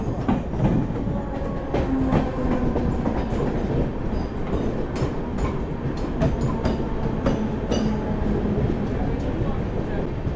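The Udyan Express passenger train, running from Mumbai to Bengaluru, rumbles steadily from onboard with repeated rhythmic wheel clacks over rail joints and a faint squeal now and then.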